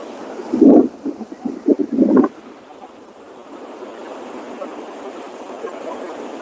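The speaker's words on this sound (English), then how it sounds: "She burps so loud." A woman gives two loud, croaking burps in quick succession while shore fishing in the Carolinas, then low rushing background noise continues on its own.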